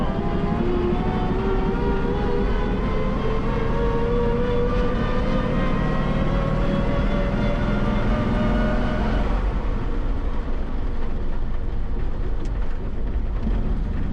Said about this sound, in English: We're gonna try real hard double clutching.